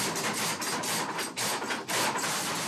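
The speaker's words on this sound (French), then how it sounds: "Le battement du marteau pilon ne perturbe pas les autres artisans." An old forge power hammer pounds inside an artisans' workshop in Trentemoult, giving a fairly regular series of harsh, clattering mechanical blows with brief gaps, heard alone at moderate distance.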